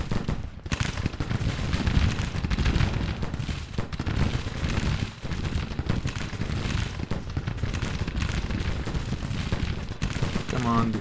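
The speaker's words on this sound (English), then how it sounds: "Let's go counter battery fire." Civil War artillery in a strategy game firing counter-battery: dense, continuous cannon booms and rumbling volleys rolling through the whole stretch, loud and crowded, with no gaps of quiet.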